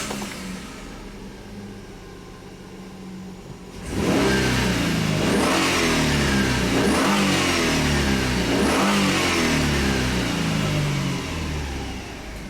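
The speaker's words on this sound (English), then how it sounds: "now let's start the car and see what happens" A Hyundai Sonata with a crankshaft sensor fault (code P0335) cranks briefly, then catches and revs repeatedly in loud, rising and falling surges that continue steadily close by.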